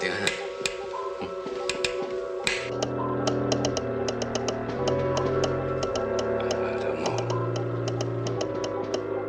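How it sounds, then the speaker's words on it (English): A hand taps out Morse code aboard a submarine in a series of sharp, evenly spaced clicks over a loud, sustained dramatic music score. "That's Morse code."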